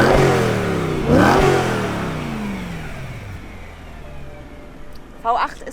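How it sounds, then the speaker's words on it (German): A 4-litre V8 car engine revving hard, loud deep bursts of throttle that swell then fade into a lower rumble, with voices talking over it and a short sharp blip near the end. "Der klingt einfach geil. 4 Liter V8."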